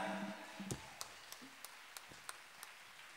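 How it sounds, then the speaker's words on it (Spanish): Scattered claps from a concert audience at an orchestra performance, a handful of sharp separate hand claps spaced out over a few seconds, faint and somewhat distant, with a brief low tone near the start. "Muchísimas gracias por esos aplausos"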